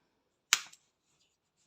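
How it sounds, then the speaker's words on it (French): A single crisp snip of scissors cuts yarn while a crochet border is finished, one short sharp close click set in near silence. "Donc, ceux-là sont à couper. Rien ne vaut le beau ciseau."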